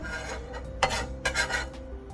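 Knife chopping chives on a cutting board, a few quick, close scraping cuts spaced irregularly across a brief quiet stretch.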